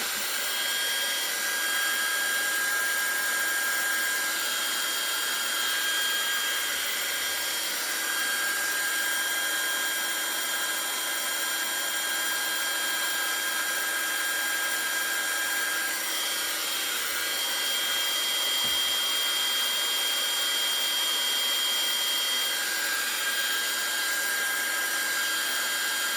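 A hair dryer drying watercolor paint on a mandala painting, running as a loud, steady close whine and rush of air for the whole stretch, with no talk over it.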